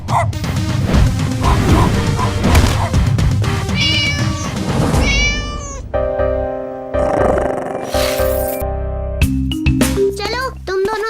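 A cartoon cat meows repeatedly in bright, drawn-out cries mixed with music and other cartoon effects, with a dog barking at times in an animated kids' show.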